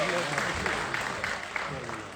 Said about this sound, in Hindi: एक लड्डू के लिए जोरदार ताली हो जानी चाहिए